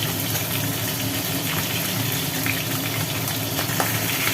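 Rohu fish pieces fry in a pan with a dense, continuous sizzling hiss, loud and close throughout.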